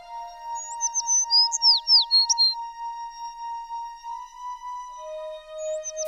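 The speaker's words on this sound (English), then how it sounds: "A passing cat heard the bird singing and came to investigate." A small songbird chirps and trills in a children's story, quick high tweets over a steady sustained background tone, fairly close and continuous for several seconds.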